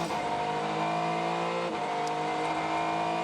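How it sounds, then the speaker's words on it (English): The Meerschaert Racing Acura race car engine drones steadily at the Sebring twelve-hour endurance race, a loud continuous high-revving tone that holds constant with a slight shift midway. "the engine you can hear is that of the Meerschaert Racing Acura."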